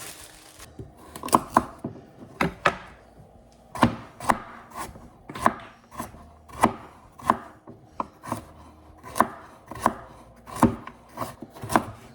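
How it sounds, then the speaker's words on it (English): A knife chopping carrots on a board for homemade chicken noodle soup, a series of sharp, close, evenly spaced thuds in a steady rhythm with no talking. "now I'm gonna chop up some carrots"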